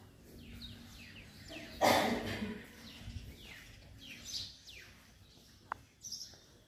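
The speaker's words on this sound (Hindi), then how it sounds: "छोटी छोटी चिड़िया है देखिए आजकल ये मिलती नहीं है" Small birds chirping outdoors at a cultural complex in Golaghat, scattered short tweets and quick downward calls, mostly faint with one louder burst of noise, no talking.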